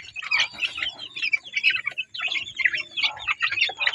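Chicks in their coop chirp continuously in a dense, overlapping chorus of high, close peeps with only a brief pause.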